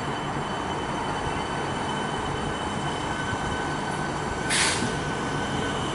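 Melbourne suburban train pulling out of Laverton station, a loud continuous rumble of wheels and traction with a brief high squeal near the end, heard close on the platform without talk.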